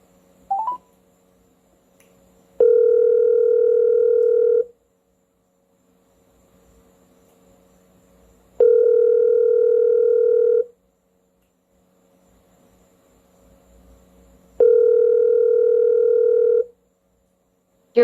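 A telephone tone plays while a call is being placed: a short chirp of dialing, then three evenly spaced steady two-second tones separated by silence.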